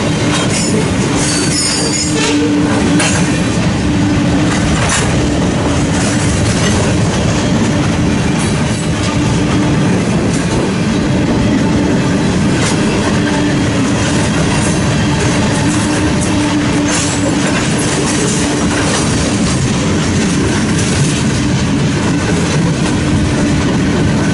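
A long Southern Pacific mega manifest freight rolls past near and loud in Fremont and Ashland, Nebraska, wheels squealing and cars rumbling steadily with occasional clickety-clack and no letup.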